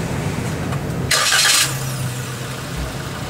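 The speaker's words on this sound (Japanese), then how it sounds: "エンジンかけてみて" A Suzuki Jimny Sierra demo car, heard from nearby, cranks for about half a second with a burst of starter noise, then settles into a low, steady idle.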